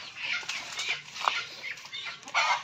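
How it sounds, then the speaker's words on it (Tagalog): Pet Rhode Island crossbreed chickens chasing each other outdoors, giving scattered clucks and brief calls over a busy background of birds and rustling, with a louder burst of activity near the end. "naghahabulan yung mga alagang manok natin sa labas"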